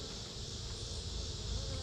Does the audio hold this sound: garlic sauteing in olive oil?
no